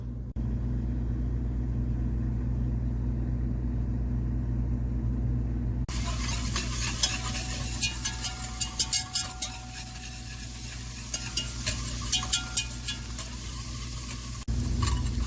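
Two tablespoons of butter melting and sizzling in a pan: a low steady hum at first, then a bright continuous sizzle starts, with repeated scraping stirs and utensil clicks against the pan, no talk.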